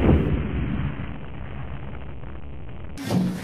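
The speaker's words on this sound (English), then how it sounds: "the soldiers decided to blow up the armory and arsenal buildings using mattresses filled with black powder" A deep, loud boom from arsenal and armory buildings blown up with black powder, the heavy rumbling blast rolling on for seconds before a second burst near the end.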